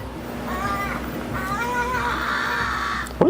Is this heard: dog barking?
no